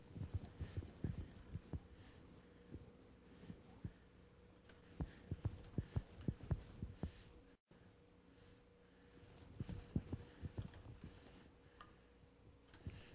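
Pasta machine rollers knead and thin ribbon pasta dough, giving faint, irregular thumps and clicks over a low mechanical hum, with a brief drop to silence partway through.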